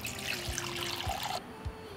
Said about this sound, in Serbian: Nalit ću s toplom vodom do visine poklopca.